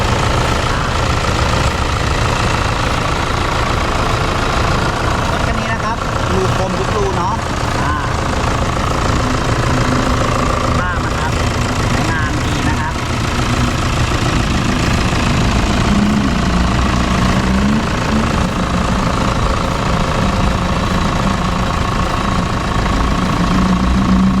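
A 2006 Toyota Fortuner 3.0-litre diesel engine idles steadily with a low, rough rumble throughout, and a voice talks faintly over it.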